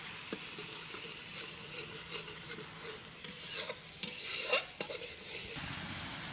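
Onion paste, black mustard paste and spices are stir-fried for rohu fish do-pyaza, a soft steady sizzle with a few scraping strokes, fairly quiet and alone.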